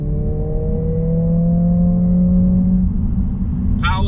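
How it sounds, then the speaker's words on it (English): A Mercedes A45S AMG with a 415 horsepower engine held high in the rev band, a loud steady engine drone with rising tonal whine, heard close from inside the car. "I've been running the rev counter up to the limiter several times already"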